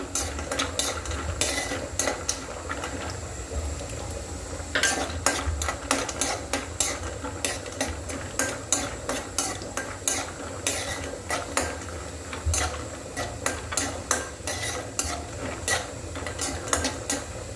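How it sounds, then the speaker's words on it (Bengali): Nuts frying in a pan are stirred with a metal utensil, making a quick, rhythmic run of scraping clinks against the pan over a low, steady background hiss. "বাদামগুলো একটু ভেজে নিচ্ছি"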